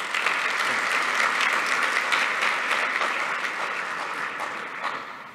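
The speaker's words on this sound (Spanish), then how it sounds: "Por favor, damos un aplauso a ellos" Audience applause for the authors at a LAC 2024 session, a dense, steady wash of clapping from many hands that holds loud throughout and tapers slightly at the end.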